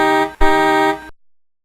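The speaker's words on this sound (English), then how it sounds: "Hear that honking sound?" A car horn honking in two steady blasts, the first short and the second longer, loud and close, then cutting off into silence.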